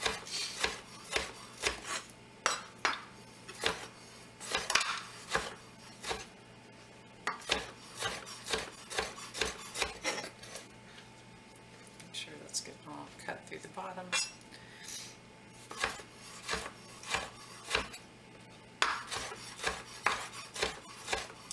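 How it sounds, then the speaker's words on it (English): A knife chops tomatoes into small pieces on a cutting board, quiet irregular taps and scrapes repeating in short bursts, with a person talking intermittently. "You can cut them chunkier if you like to get a bigger mouthful of tomato with a bite."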